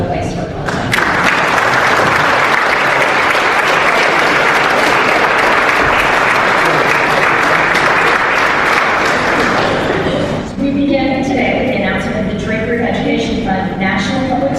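Sustained audience applause at a symposium honoring Alan Sack at Howard University, a dense, loud wall of clapping that runs steadily for about ten seconds before thinning into scattered claps and murmuring voices.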